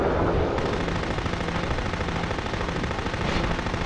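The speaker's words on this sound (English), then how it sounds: "the mortar is ridiculously powerful" A mortar weapon fired in the game Future Cop LAPD, heard as a dense, rapid stream of close, loud firing bursts that runs continuously from start to finish.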